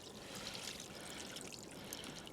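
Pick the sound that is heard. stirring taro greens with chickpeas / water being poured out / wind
water being poured out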